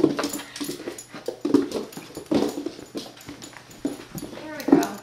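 A dog whimpers and whines in short, repeated bursts, close by, while people talk over it.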